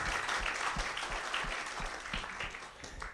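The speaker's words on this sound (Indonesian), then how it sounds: "Tepuk tangan dulu untuk orang yang luar biasa." An audience at a sales seminar claps together, a steady mass of hands with a few individual claps standing out, moderately loud in a hall and continuing without break.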